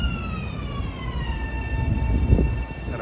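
Long Island Rail Road train 2768, bound from Penn Station to Far Rockaway, pulls into Forest Hills station with a steady rumble and long descending tonal whines, swelling slightly louder near the end.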